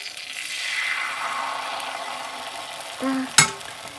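Pithe rice cakes frying in a pan, a steady close sizzle of hot oil that swells and fades gently, with a brief clink of a utensil against the pan near the end.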